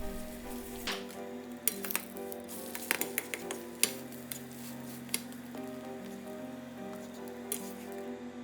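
An egg frying in a pan for pork egg rice balls, a steady close sizzle with scattered pops and crackles, alongside a faint tonal hum and no talk.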